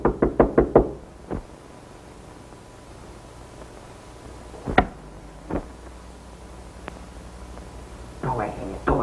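Knocking on a door in a 1933 crime comedy: a quick run of five sharp raps opens, then a single knock, later two more isolated thumps, with a voice speaking near the end.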